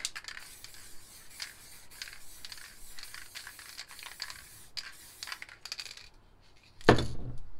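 Light hissing bursts and clicking from an MTN spray paint can pressed gently, a busy texture of short taps and sprays, ending in a louder sustained hiss near the close; no talking.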